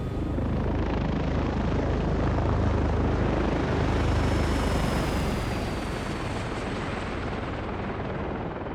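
Steady rushing airflow around a KwikFlight Striker helicopter in flight in MSFS 2024, a loud, continuous broadband roar with a low rotor thrum beneath it, holding level throughout.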